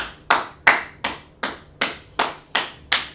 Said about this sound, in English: Let's clap it up for that brother